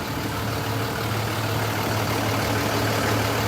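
A decorated Route 51 bus idles with a steady, low diesel rumble that holds constant throughout, close and fairly loud with no other sounds.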